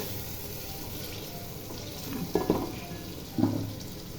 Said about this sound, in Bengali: এবার চাল আর ডালগুলোকে মশলার সাথে ভালো করে ভেজে নেব